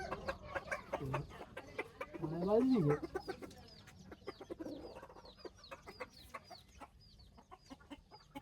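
Village roosters in a Gujarat farmyard cluck in short, scattered bursts close by, with a louder call near the middle and faint human voices in the background.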